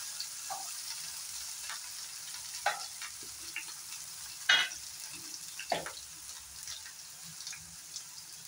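Potato and onion fry in a pan for a paneer dish, giving a faint, steady sizzle broken by a few sharp stirring clinks and scrapes, with no voices.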